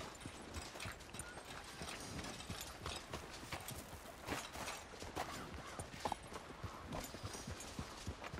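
Horse hooves clip-clop steadily in Red Dead Redemption 2, a close, continuous rhythmic trot of a strong-looking horse with faint ambient background and no speech.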